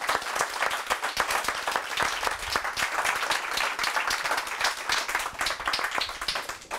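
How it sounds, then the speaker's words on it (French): Sustained audience applause fills an indoor hypnotherapy conference hall, dense steady clapping from many hands, loud and close throughout with no talk over it. "Et maintenant, vous pouvez vous applaudir."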